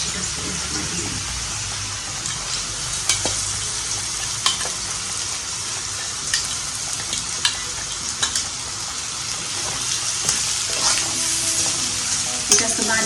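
Cooked potatoes, peanuts and green chili sauté in a pan for fasting-day sabudana, sizzling steadily up close while a utensil stirs and taps against the pan now and then.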